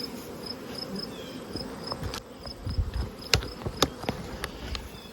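Honey bees buzz around their hives in a steady low hum with a thin high whine above it, while scattered soft knocks and taps sound close by.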